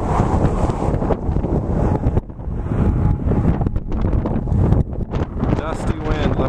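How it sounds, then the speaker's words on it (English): Strong, dusty wind roars straight into the microphone near hook-shaped cliffs, a continuous buffeting rumble with gusty surges that dips briefly, and a person talks over parts of it. "Dusty wind, let me tell you."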